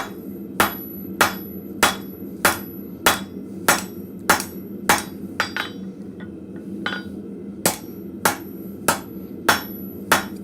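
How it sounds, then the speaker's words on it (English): Steady rhythmic blows of a hammer's rounding face ringing on hot metal at a blacksmith forge, about one strike every half second, with a brief pause midway before the pounding resumes. "I'm still using the rounding side of my hammer."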